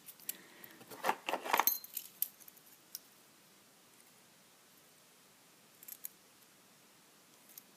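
A ring of many metal lock keys shaken and jangled up close, a bright clustered rattle in the first two seconds, then a single clink and a few faint jingles later against quiet.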